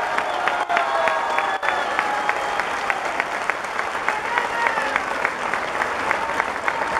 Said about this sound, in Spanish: Un aplauso para los 35 diputados.